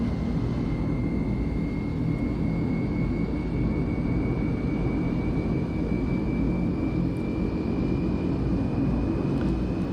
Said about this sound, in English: You can see the starter motor is, say, turning green, and you will hear the engine spinning